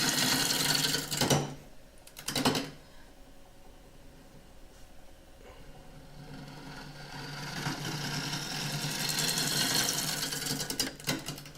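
A wood lathe spins an oak burr bowl blank, giving a steady mechanical hum with a few sharp scraping bursts from the cutting tool near the start and a louder rushing cut building toward the end.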